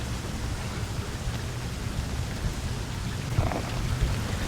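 Heavy rain pours down steadily in a town with low thunder rumbling beneath, a dense continuous wash of noise that swells slightly toward the end, with no voices.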